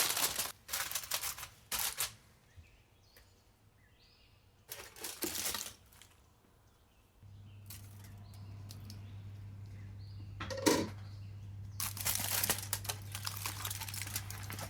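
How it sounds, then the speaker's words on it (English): Aluminium foil crinkles and rustles in sharp bursts as it is pressed tightly over a biryani pot of mutton chops, with a steady low hum from the stove underneath. "Seal this regal creation tightly with foil"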